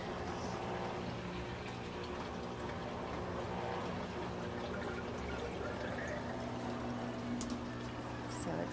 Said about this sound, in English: So it's done the drain, now it's about to enter the spin cycle.